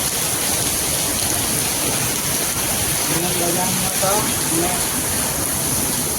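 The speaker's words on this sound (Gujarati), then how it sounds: "આપણો વરસાદ તો બતાવી દીધો" Heavy rain pours over a market street in Kheralu, producing a loud, unbroken hiss that stays dense and steady throughout, with faint voices underneath.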